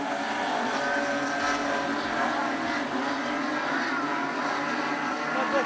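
Super Street Sedans race at Rockhampton Speedway, a steady roar of several engines blending together throughout, loud and continuous with no clear gaps.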